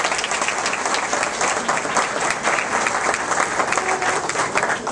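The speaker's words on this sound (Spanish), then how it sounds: "para quien pido un fuerte aplauso" Steady, strong applause from an audience at an award ceremony, dense and continuous for several seconds with slight swells, no speech over it.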